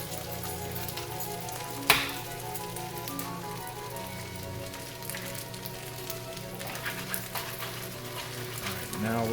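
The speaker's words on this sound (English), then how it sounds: "I'm going to crack 2 eggs and put them into the pan." Two cracked eggs hit hot oil in a pan while making fried rice, a steady bright sizzle with a sharp crackle near the start, continuing under a low background hum.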